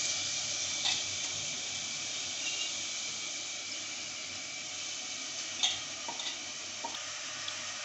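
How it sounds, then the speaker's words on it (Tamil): Soaked rice and lentils fry in hot ghee with a steady, close sizzle and hiss, broken by a few light stirring scrapes in the pan. "அதை அந்த நெய்யில் போட்டு வறுத்துட்டு பண்ணுங்க"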